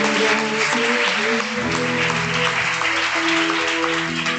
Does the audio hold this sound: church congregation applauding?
yes